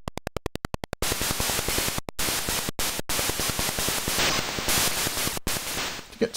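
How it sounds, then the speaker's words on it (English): ZX Spectrum game audio: a rapid chopping pulse like helicopter blades, then harsh blasts of white-noise explosions broken by brief silent gaps, loud and continuous with no talking. "Sound is a mix of helicopter blades and white noise representing explosions"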